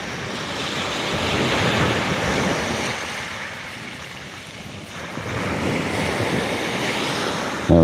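Ocean surf and wind buffeting the microphone while sea kayak fishing, a rolling wash that swells, eases off in the middle, then builds again, with a brief knock right at the end.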